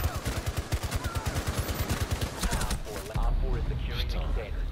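Rapid automatic gunfire from the shooter game Rainbow Six Siege, a fast even burst of close shots for about three seconds, then a heavier rumbling impact with scattered debris and noise.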